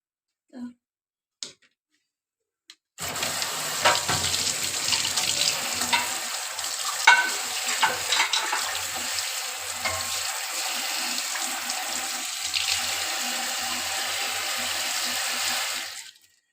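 Water running from a tap while ingredients for sambar are washed in a kitchen: after a few faint knocks, a loud, steady close gush starts and continues for about thirteen seconds before stopping abruptly.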